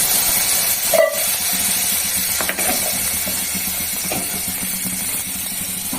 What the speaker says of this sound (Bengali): জিরে ধনে গুঁড়োটা দেবো পুড়ে না যায় একটু জল দিয়ে দিই